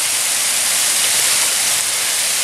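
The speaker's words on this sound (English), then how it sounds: "There you got a nice little view of the waterfalls down there." Steady, broad rushing roar of waterfalls heard from a viewpoint above in a park in winter, constant and fairly loud with no talking.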